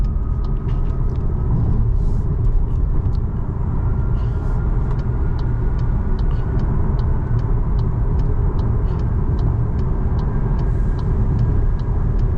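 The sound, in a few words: whistling noise inside car at highway speed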